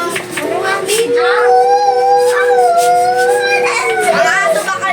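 Several voices imitate long, wavering dog howls, rising and falling together, with a voice mixed in.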